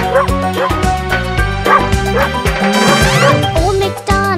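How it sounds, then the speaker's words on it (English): A dog barks repeatedly within the Old MacDonald children's nursery song, the short woofs sitting over continuous, loud backing music. "And on his farm he has a dog, E-I-E-I-O. With a woof woof here and a woof woof there."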